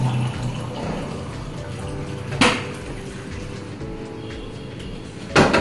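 Water is poured from a glass into a cooking pot of mango mutton masala, a soft steady splashing with a couple of brief louder clinks and splashes, alone without talk.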